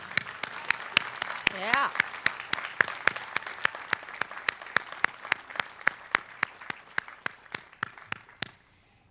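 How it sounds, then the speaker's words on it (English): Crowd applause at the Washington College 2017 commencement ceremony, with sharp, evenly spaced claps close by standing out over the broader clapping and a brief voice calling out. "Let's give them a big round of applause."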